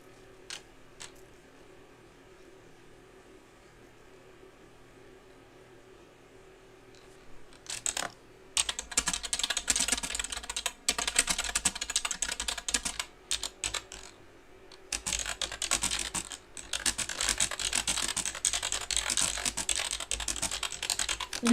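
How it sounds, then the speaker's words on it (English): Computer keyboard typing heard up close: a quiet background hum for the first several seconds, then bursts of rapid, clattering keystrokes that continue with brief pauses to the end. "The keyboard."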